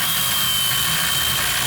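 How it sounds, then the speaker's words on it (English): An angle grinder works steel on a dumpster being converted into a speedboat, a harsh, steady high-pitched whine with broadband hiss, loud and continuous for the short burst, no voices. "We're just grinding down this area here"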